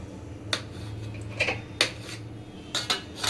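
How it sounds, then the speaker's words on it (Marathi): A knife cuts through a large green pea (matar) roll, giving several crisp taps on a board at a slow, uneven pace, close and fairly clear over a low steady hum. "आता सुरीच्या सहाय्याने ते आपण छान असे कट करून घ्यायचे आहेत"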